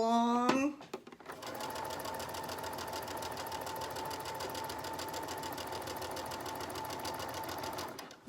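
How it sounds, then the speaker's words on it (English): Sewing machine stitching a fabric dart, a steady fast mechanical whirring of the needle running continuously for several seconds after a brief start, close and even. "I'm still holding where that dart point ends, and I just sew along, bringing it along."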